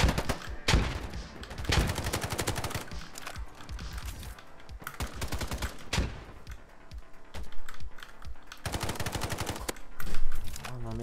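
Rapid bursts of G36C rifle fire in the shooter game Polygon rattle out in repeated volleys, loud and close, with short pauses between strings of shots and clicking mechanical sounds in the gaps.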